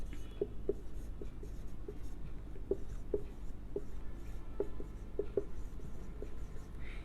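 Writing facebook.com during a live class: a pen or chalk tapping and scratching in short, quick strokes, fairly faint against a low hum, with no voices.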